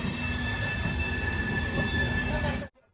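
Amrit Bharat Express passenger train running at speed, a loud continuous rumble with metallic wheel squeal tones, cutting off abruptly at the end.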